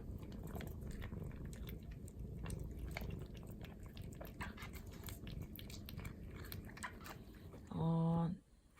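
A cat eats a churu treat with quiet, close licking and smacking sounds, then gives a short meow near the end.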